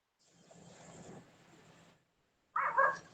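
A street dog barks and whimpers in a short close burst, with a softer stretch of yelping before a pause and then a loud bark at the end.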